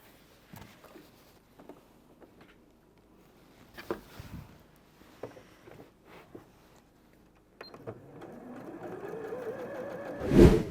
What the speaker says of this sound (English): We finished up sewing on the outside.